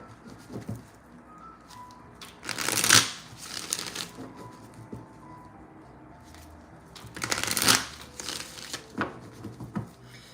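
Tarot cards shuffled on a mat, two distinct riffling bursts a few seconds apart, close and crisp, with quieter handling taps and slides between them.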